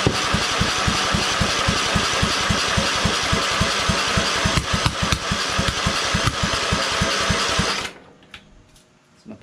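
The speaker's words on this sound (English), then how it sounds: "Let's give her a crank or two, see what happens." Kohler Command engine fitted to a Craftsman LT2000 lawn tractor being cranked by the starter, a loud, steady rapid chugging that runs for about eight seconds before cutting off abruptly, leaving faint background noise.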